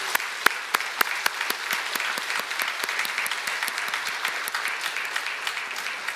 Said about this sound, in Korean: 여러분 격려의 박수를 해주시기